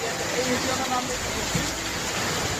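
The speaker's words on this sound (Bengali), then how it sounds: "বৃষ্টিটা দেখো কত জোরে হচ্ছে, এতটা জোরে বৃষ্টি হচ্ছে, সাথে হাওয়া দিচ্ছে" Heavy rain with wind pours down outdoors, a dense, steady roaring hiss that stays loud and even throughout.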